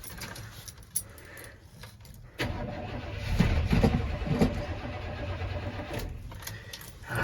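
A Chevrolet C10 squarebody engine cranks with a quick rhythmic churn, then fires and catches into a rougher, louder running sound, with no alternator belt fitted.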